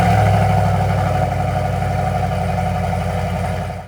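A GMC Sierra 1500 Denali pickup with active exhaust runs its engine in a steady, loud, close rumble that holds for several seconds, then cuts off abruptly at the end.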